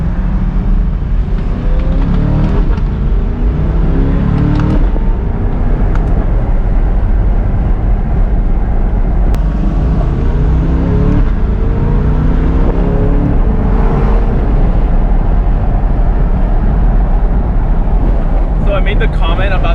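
A 2023 C8 Corvette drives along with a steady, loud engine drone and road roar throughout, with shifting revs rising and falling and a voice talking faintly underneath.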